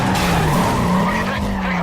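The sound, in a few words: muscle car skidding in Need for Speed Carbon video game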